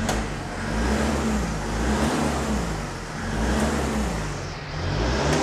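A Tarso Marques Concept Milk Truck idles steadily and loudly up close, its engine note rising and falling in a few slow, smooth revs with no talk over it.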